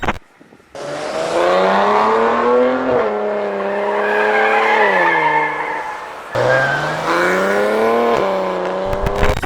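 A 2019 Maserati Ghibli S Gransport with a V6 engine accelerating hard, its tone climbing steadily through the gears with brief dips at each shift. The sound is loud and continuous, heard from inside the car.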